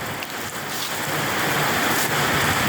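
Steady rain pours down outdoors, a dense, continuous broadband hiss of drops on surfaces that holds even and fairly loud throughout, with no voices.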